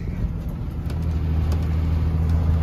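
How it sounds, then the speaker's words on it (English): A pickup truck drives along on the way back from town, its mid-pitched engine droning steadily with low rumble and a slight rise in revs, close and continuous with no talk. "So I'm coming back from town with my truck"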